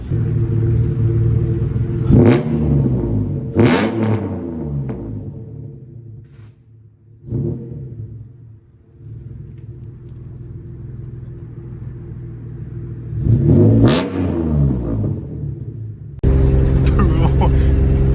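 Rumbling Mitsubishi 3000GT engine fitted with Flashark long-tube headers, heard from inside the cabin, idling low with a few sharp revs rising and falling, and some indistinct voices.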